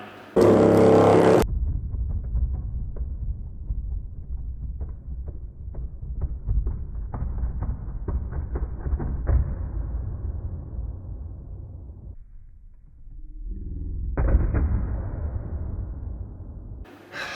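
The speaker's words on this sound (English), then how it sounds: "There it goes, the second Trio sub up in smoke yet again." A 15-inch car subwoofer driven hard until it blows out, giving loud, distorted bass that pulses unevenly for several seconds, drops away, then surges again before cutting off.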